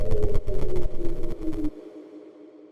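A soft synth pad tone hums with a thin, whistle-like pitch over a pulsing, fluttering texture, then cuts out and leaves a faint tail.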